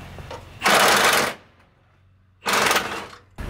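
On a Subaru Impreza, a power tool takes off the last nut on the right engine mount. Two loud, close rattling bursts about a second long are separated by a quiet gap, and a third burst starts at the end.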